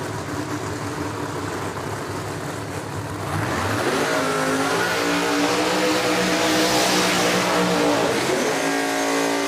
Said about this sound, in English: these drivers just finished up their burnouts over in the left lane